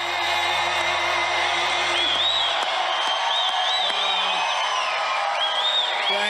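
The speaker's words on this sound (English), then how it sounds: "Wow, that's some crowd." A large crowd at a Donald Trump rally in Detroit, Michigan, cheering and whooping in a loud, sustained wash of voices, with whistling and shouts rising and falling.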